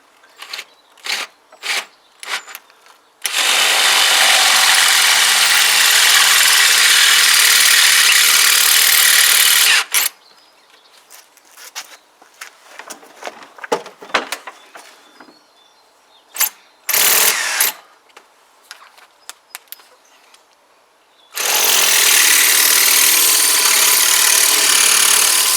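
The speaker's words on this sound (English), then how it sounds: "Thought I'd bust the drill then before it even started." An electric drill with a blunt bit whines loudly in two long sustained runs boring into metal on a Kawasaki BN125 Eliminator motorcycle, separated by clicks, knocks and a short burst of drilling in between.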